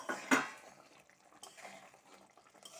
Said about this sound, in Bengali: এবার ফুটে গেছে, আমি এই বড়াগুলো দিয়ে দিচ্ছি